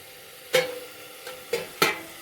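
Ash gourd frying in a pan with mustard seeds and dried chillies, a low sizzle underneath three sharp scraping strokes of a spatula stirring the pieces.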